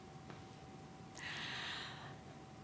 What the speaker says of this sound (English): all I hear is myself gasping for air